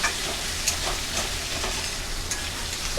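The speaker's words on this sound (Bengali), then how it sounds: "দেওয়ার পরে বন্ধুরা ভালো করে একটু নাড়িয়ে চাড়িয়ে মিশিয়ে দিচ্ছি সবগুলোকে" Grated onion, ginger and garlic fry in a pan while being stirred. A constant, close hiss of sizzling carries light scraping strokes of the spatula throughout.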